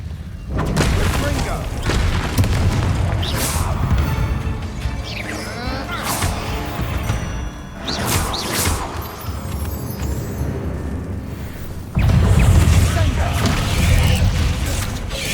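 Bombarda spell explosions in the Hogwarts Legacy video game burst in heavy booming blasts amid clanking, creaking mechanical clatter and spell effects, with a character voice calling out between them.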